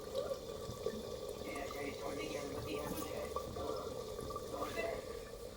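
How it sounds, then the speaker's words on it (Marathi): Hot water poured into a pan of chicken curry (bhaji), a steady liquid pour and splash running throughout at moderate level with faint kitchen background noise. "गरम पाणी टाकी ते आता भाजीमध्ये"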